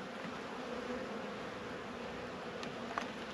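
Honeybees in an open hive during a winter inspection, a steady close buzzing drone throughout at a low level, with a couple of faint sharp knocks near the end.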